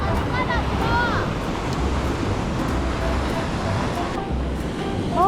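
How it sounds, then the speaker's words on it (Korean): Big, high ocean waves at a beach in Spain make a loud, steady roar of surf with wind buffeting the microphone and faint voices mixed in. "진짜 높아 파도"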